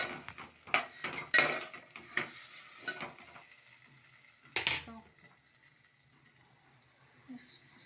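Cauliflower curry ingredients with tomato and potato being stirred in a pan over high flame, a spoon scraping and clinking against the metal in several quick strokes, then a quieter sizzle.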